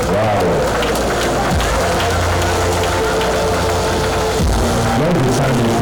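Guests at a grand 40th birthday reception applaud during the cake cutting, a dense continuous clapping from a crowd close by with voices mixed in.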